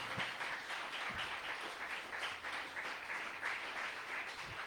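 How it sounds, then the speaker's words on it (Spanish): Church congregation clapping together in a sustained, fairly faint round of applause, with no talk over it. "dele un aplauso fuerte al Rey de la Gloria."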